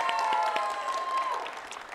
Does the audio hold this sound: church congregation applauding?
yes